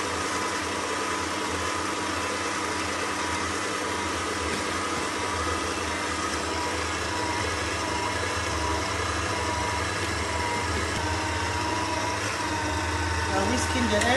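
An electric mixer beats special-occasion cake batter while brown sugar is added, giving a steady, even whirring drone that runs close and unbroken from start to finish.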